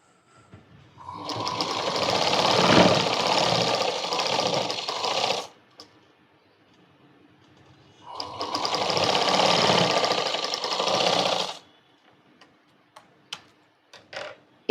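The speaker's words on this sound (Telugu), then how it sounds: "దీని మీద కూడా పైన స్టిచ్ చేసుకుందాం ఎక్స్ట్రా" A sewing machine top-stitches a baby frock in two sustained runs of rapid whirring, separated by a pause, followed by a few soft clicks and taps.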